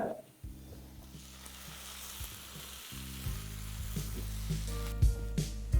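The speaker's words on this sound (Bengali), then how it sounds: "আর টমেটোটা দেওয়ার পরে এটাকে ভালো করে আবার ফ্রাই করে নিন" Tomato frying with onions in a pan, a steady close sizzle that grows louder and busier, with occasional stirring scrapes near the end.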